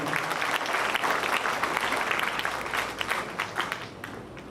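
Audience applause at a college welcome and thanksgiving ceremony, a dense steady wash of many hands clapping that carries on loud for several seconds and tapers slightly toward the end.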